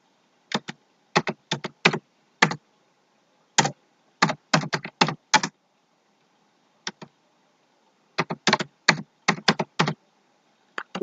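Bursts of keystrokes on a computer keyboard while entering text into an ID card layout in MS Word, clattering in quick uneven clusters with short pauses between, close and clear with no speech.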